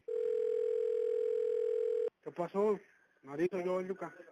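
A steady telephone dial tone hums alone for about two seconds, then cuts off as a voice starts speaking, the line sound of an intercepted call.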